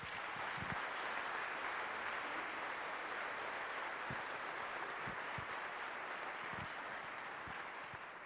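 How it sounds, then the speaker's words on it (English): A breakfast event audience claps in a steady, continuous round of applause for a speaker, a fairly faint, even wash of clapping that slowly tapers toward the end. "one more round of applause for Stephanie"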